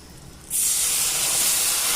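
Turmeric powder dropped into hot oil already tempered with kalonji and green chilli: after half a second of near quiet, a sudden loud, bright hiss bursts out and holds steady to the end, close up.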